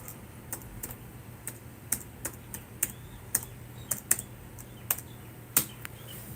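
Quiet, irregular clicks of keys being pressed on a computer keyboard while a new password is entered on a Raspberry Pi, a dozen or so scattered taps with no talking.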